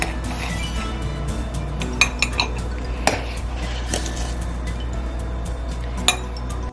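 A spoon scoops cocoa powder into cups while making hot cocoa, giving several sharp clinks against the cups over a steady low kitchen background with no talk.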